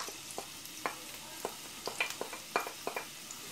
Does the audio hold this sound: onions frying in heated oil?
yes